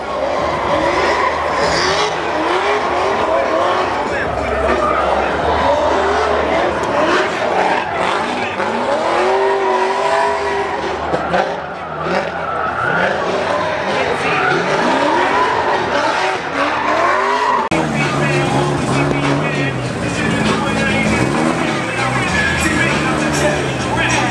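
Cars drift at a Florida tuner event, with repeated loud tire squeals and skidding over revving race-car engines, some passing close by, and crowd noise throughout.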